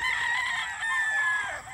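A rooster crows at Angelous game farm in Quezon, a single long, loud, drawn-out call close by with a steady hiss of open-air background behind it.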